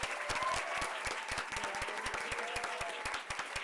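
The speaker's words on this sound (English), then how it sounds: "Let's give her a round of applause." Applause fills a township council meeting room, a sustained wash of many hands with distinct sharp claps standing out near the listener, fairly faint overall and unbroken to the end.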